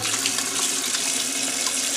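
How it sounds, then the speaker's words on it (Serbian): Tap water pours steadily into a sink in a constant, close, even rush of splashing water with no voices. "Onda opet puštamo vodu."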